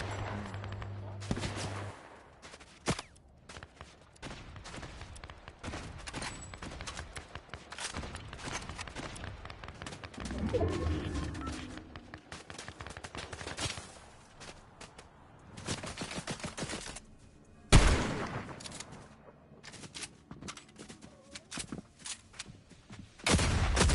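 Scattered gunshots and bursts of fire ring out during Fortnite gameplay, some loud and close, others farther off, with footsteps and game effects between them.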